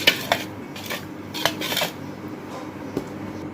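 A spoon clinks and scrapes against a bowl while salt, yeast and sugar are mixed together, giving a series of close metallic taps and stirring scrapes with quiet pauses between.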